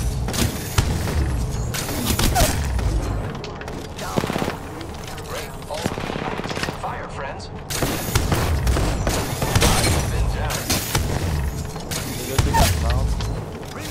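Charge rifle fire in the Apex Legends video game, a series of loud sharp shot bursts with mechanical whirs between them, set against dense game sound and voice chatter.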